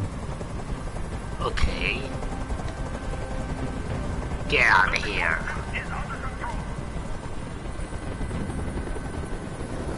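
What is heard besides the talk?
helicopter flying overhead in the video game Detroit Become Human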